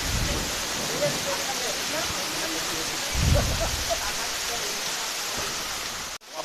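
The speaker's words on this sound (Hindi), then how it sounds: "नैनीताल में काफ़ी तेज़ बारिश के साथ अब ओले भी गिरने लगे हैं।" Heavy rain with hailstones pelting down in Nainital, a dense steady roar that holds nearly constant throughout, with a brief thump midway and a sudden cutoff near the end; faint voices may sit under the downpour.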